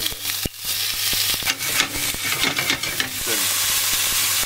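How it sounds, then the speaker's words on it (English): Loud steady sizzling of a vegan steak frying in a hot pan, with scraping stirs and clicks of a utensil on top, close up. "Sizzle there, that looks good."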